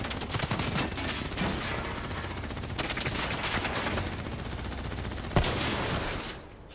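Call of Duty Black Ops 3 combat scene with a loud, continuous barrage of automatic gunfire and rapid overlapping shots, one sharp blast near the end before it fades slightly.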